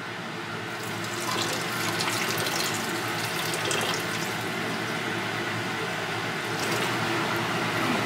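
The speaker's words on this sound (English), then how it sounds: "I'm adding hydrochloric acid to the beaker here." Hydrochloric acid is poured into a beaker during platinum recovery from hard-drive platters, a steady close trickling and splashing stream of liquid lasting several seconds, growing a little fuller after the first second, with no voices.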